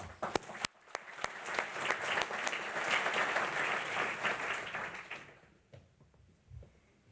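An audience at a ceremony applauds a student speaker. A few sharp individual claps build into a sustained wash of clapping that fades out after about five seconds, leaving scattered last claps.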